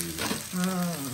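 Red chilies fry in hot oil, giving a brief, soft sizzle with a faint pop, heard close by at low volume.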